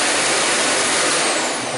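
A Shark Duo Clean NV801UKT vacuum cleaner runs steadily and close by, a continuous broadband whoosh with a faint high whine and no voices.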